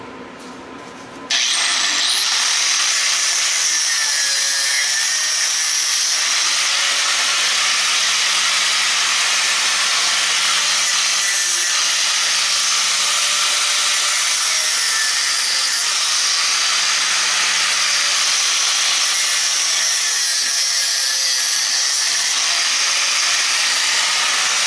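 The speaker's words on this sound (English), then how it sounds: "We'll go ahead and cut these off of there. That way it'll make it easier to stick it in the vise." A power tool cuts scrap brass pieces off on a cold winter day, giving a loud, continuous high whine and hiss that starts abruptly and runs unbroken.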